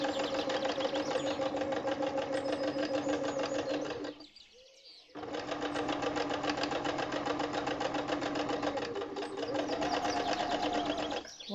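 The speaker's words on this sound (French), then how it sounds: "Voilà, vous faites votre couture. Le lacet va être guidé à l'intérieur de l'encoche." A sewing machine fitted with a piping presser foot stitches piping cord between fabric pieces, running in a fast, even mechanical rattle. It pauses briefly midway, then resumes at the same close, steady pace.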